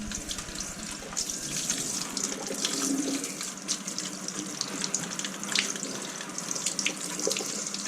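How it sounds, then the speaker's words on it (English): Steady running water pours and splashes continuously in a home shower, a dense hiss with small irregular spatters, close and fairly loud, with no voices. "You want in the shower?"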